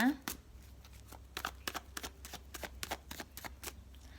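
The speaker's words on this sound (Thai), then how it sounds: "สับไพ่สักครู่หนึ่งนะ" Tarot cards shuffled by hand, a run of quick crisp riffling bursts in an uneven rhythm, close and fairly soft, with a brief voice at the very start.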